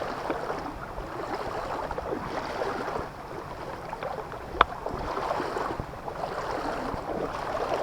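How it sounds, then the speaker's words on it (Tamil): Waterfall in the middle of a forest, a continuous rushing, splashing flow of water that stays steady and fairly close throughout, with a faint breeze and a single small click partway through and no talking. "நடு காட்டுக்குள்ளே அருமையான அருவி பாருங்கள் அட சும்மா சல சல சலம் தண்ணி போயிட்டுருக்கு"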